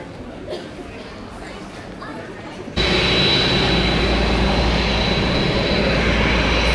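A passenger airplane's engine roars suddenly to a loud, steady, broadband drone inside the cabin during a flight, after a quieter stretch of cabin ambience with faint voices.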